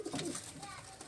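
A pigeon from a Karachi rooftop breeding loft gives a soft, brief throaty coo, close but faint, with a trace of background voice.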